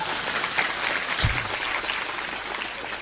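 Applause from the audience at a religious lecture, a dense, steady wash of clapping that fills the whole short stretch at a fairly even level.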